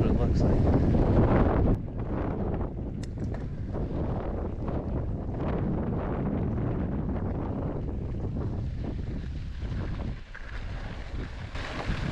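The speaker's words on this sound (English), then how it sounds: "Got some wind again today." Gusty wind buffets a microphone on a mountain bike trail near a creek in Carson City, Nevada, a loud continuous rumbling roar that eases slightly after the first seconds and carries on throughout.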